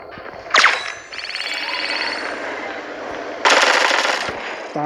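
Gunfire from the mobile shooter game Bullet Echo: sharp bursts of shots with metallic clangs, a short volley early, sustained rattling fire in the middle and another loud burst near the end, no talk.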